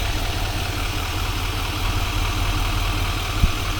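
2025 Chevy Silverado 2500HD Z71 with the 6.6 Duramax diesel idling, a steady low, rumbling drone with a fast, even pulse, heard close and loud with no talking.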